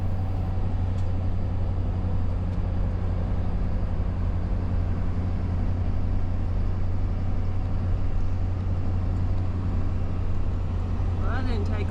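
A car driving uphill toward the top parking lot at Amicalola Falls State Park, its steady low engine and road drone heard from inside the cabin, continuous throughout, with voices speaking over it.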